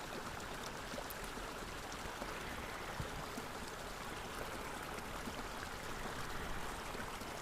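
Water from a mountain waterfall in East Iceland rushes and flows in a steady, dense wash, continuous and even throughout with no voices.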